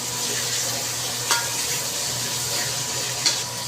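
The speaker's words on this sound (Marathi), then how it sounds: "हा थोडंसं हलवायचं आहे तेलामध्ये." Chopped tomatoes stirred in hot oil for a mutton and black pea curry give a steady, close sizzle, broken by two brief scrapes of a spoon against the pan, with no talking.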